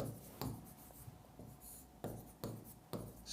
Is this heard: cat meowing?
no